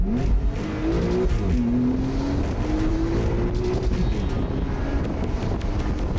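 A 2018 Porsche 911 GTS engine revs hard and climbs through its range, loud and close, with a steady roar and rising pitch across the whole stretch, with no talking.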